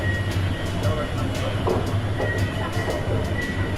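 Steady rumble of a moving Madaraka Express passenger train to Mombasa, Kenya, with rhythmic low clatter and a faint high whine, continuous throughout, heard from inside a carriage.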